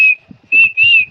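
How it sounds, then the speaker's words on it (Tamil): A person whistles to call someone, three sharp high whistle bursts, the first short and the next two longer and sustained, with faint low background noise between them. "அப்பப்ப விசில் வச்சு கூப்பிட்டு இருக்கான்."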